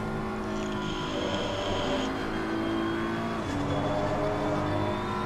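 A BMW M Power GT3 race car accelerating hard at Barcelona in a racing sim, a steady loud engine drone rising in pitch through the gears, with no voices over it.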